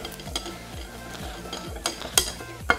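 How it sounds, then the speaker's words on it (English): Algae being stirred inside a sealed self-contained ecosystem jar: a utensil scrapes and swirls against the glass with rhythmic sweeps and several sharp clinks, fairly close and quiet with no voices. "take some of that and let's stir it"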